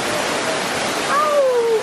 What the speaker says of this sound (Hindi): भयंकर ही झरना है यार, वाह यार। ये पानी यहाँ गिरते हुआ देख सकते हैं